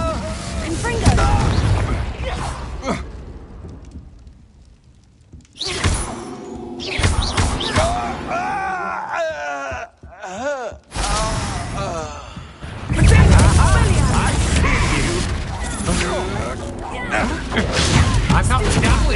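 Confringo blasting spell explosions in Hogwarts Legacy, several loud bursts with thumps and booms amid battle noise, set against ongoing talk and combat clatter.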